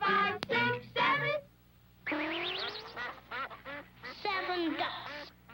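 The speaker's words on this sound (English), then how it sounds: "7 ducks." Ducks quack in a series of loud, nasal, repeated calls with short gaps between bursts, some calls rising and wavering, close and clear against a quiet background.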